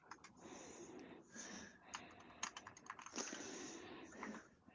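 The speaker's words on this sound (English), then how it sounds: "let me type a comment to you all from my Symbolics Lisp machine keyboard" Close-up typing on a Symbolics Lisp machine keyboard, irregular bursts of soft keystrokes with short pauses between them, quiet and alone.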